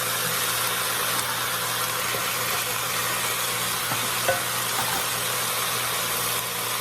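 Chicken pieces sizzle and fry in butter in a cooker, giving a steady, dense crackling hiss with a faint low hum beneath and an occasional soft clink; no one speaks.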